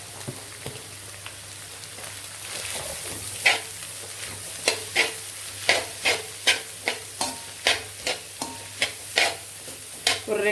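Chopped carrot and cabbage sauté in a pan for chicken fried rice, with a steady sizzle under a series of sharp, rhythmic scraping strokes from the stirring spatula, close and fairly loud.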